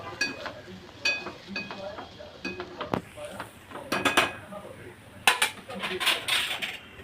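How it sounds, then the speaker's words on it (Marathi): A metal lid set onto a cooking pot of bitter gourd curry on a gas stove, with several clattering clinks and scrapes of cookware over a few seconds, close by, with some faint voice in the background. "झाकण मारून ठेवतो पाच दहा मिनटासाठी"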